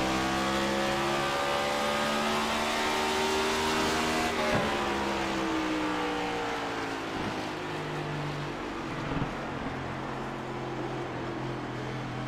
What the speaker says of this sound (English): Let's listen to see if Jones is one of these drivers grabbing downshifts, or is he going to keep it in 5th all the way around